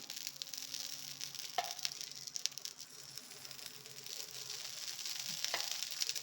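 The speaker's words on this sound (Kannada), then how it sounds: "ನಾನು ತುಪ್ಪ ಹಾಕ್ತಾಯಿದ್ದೀನಿ" Ghee sizzling on an onion dosa on a hot pan, a steady faint crackle with soft spitting bursts lasting throughout, no voices.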